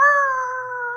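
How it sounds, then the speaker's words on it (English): A dog lets out a single loud, sustained howl right outside a church during a sermon, steady and tonal with a slight downward drift, heard alone. "He wasn't about 2 or 3 words into his sermon when there was a terrible howl outside."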